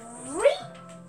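A cat meows in Minecraft, a single rising and falling meow, clear and close, with a voice faintly present underneath.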